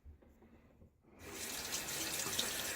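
Water from a tap starts running loudly and steadily after a quiet moment, a continuous splashing gush, being added to shaving soap during a wet shave.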